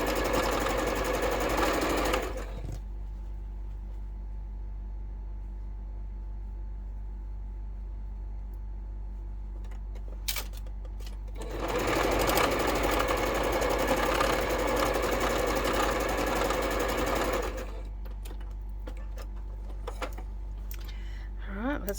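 A sewing machine stitches nine patch quilt block pieces together in two loud, steady bursts of rapid whirring, separated by a quieter pause with faint handling noises.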